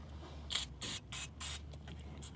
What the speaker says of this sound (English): gonna spray some of this stuff on and wipe it off